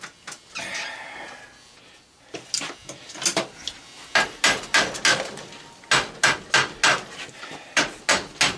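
Sharp hammer blows strike the threads of a heavy scrap brass fitting to shake loose crud, coming first in scattered knocks and then in a steady run of loud, close, evenly spaced impacts, with no voices.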